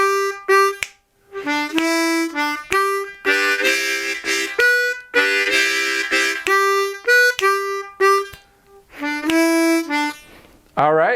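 Blues harmonica lick repeated on a loop, reedy draw-note phrases cycling over about eleven seconds with short gaps and a few sharp attacks, close and fairly loud, no voices.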